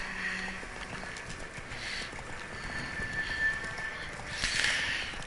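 Roach, a horse in the video game Witcher 3, gallops with a steady rapid clip-clop of hooves against a light ambient game background, no talk.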